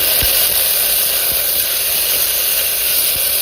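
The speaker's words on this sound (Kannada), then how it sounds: "ಚೆನ್ನಾಗಿ ಮೆಂತ್ಯ ಕಾಳು ಹಾಕ್ಕೊಳ್ಳೋಣ ಅಷ್ಟೇ ಚೆನ್ನಾಗಿ ಫ್ರೈ ಮಾಡಿ" Fenugreek seeds frying in a pan with browned onions, giving a steady, loud sizzling hiss throughout with a few faint low knocks, no voices.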